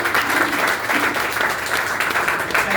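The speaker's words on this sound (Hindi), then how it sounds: "तो पर जोरदार ताली" A crowd at a Vestige training session in Kapashera, New Delhi, breaks into loud, dense applause that stays steady for a few seconds.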